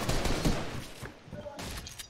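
Dense gunfire sprays in a video game, a rapid overlapping volley of shots that is loud at first and then thins into scattered bursts.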